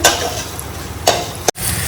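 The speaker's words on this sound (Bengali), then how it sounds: "আদাটা দিয়ে দিলাম আদাটা দিয়ে হালকা একটু ভাজবো" Ginger frying in a pan for a curry, a loud close sizzle with brief stirring scrapes and spatula knocks against the pan, no voices.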